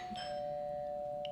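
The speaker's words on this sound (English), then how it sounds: "That's my doorbell." A household doorbell chiming faintly in the background, a steady electronic tone held through the clip with a brief higher ping near the end, heard at low level in a quiet room.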